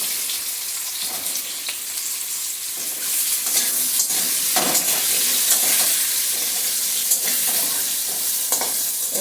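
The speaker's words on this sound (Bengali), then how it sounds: "মুখিগুলি আমার ভাজা হয়ে এসছে, এখন দিয়ে দেব কুমড়োটা।" Arum roots frying in a pan as pumpkin is added, with a loud continuous sizzle and stirring scrapes that swell and stay strong through the second half.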